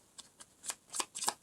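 Tarot cards being handled and drawn from the deck, a quick series of soft, close papery slides and flicks in an uneven rhythm, with no talking.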